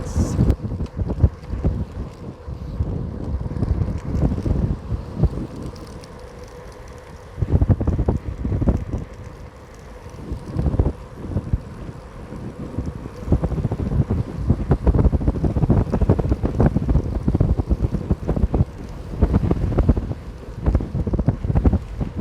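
Strong wind buffeting the microphone of a cyclist riding downhill in Aveyron, loud roaring gusts rising and falling, with a brief calmer lull midway.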